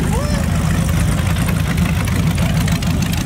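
A muscle car engine idles at a car show with a steady, loud low rumble that fills the whole stretch, while people talk over it.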